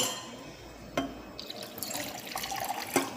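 Tap water splashes into a drinking glass, a short, quiet fill with a few brighter splashes near the end.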